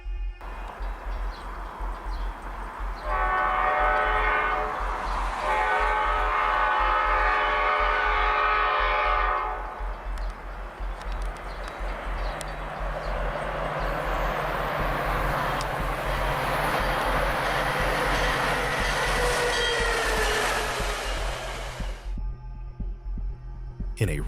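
A train rumbles past up close at a railroad crossing, its horn blaring in long blasts before the clatter of wheels and cars builds and then fades.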